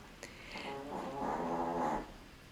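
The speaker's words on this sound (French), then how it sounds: "il y avait les ronflements de ma chienne" A dog snoring indoors, one slow rasping breath swelling and fading over a couple of seconds, close and fairly quiet, with no talking.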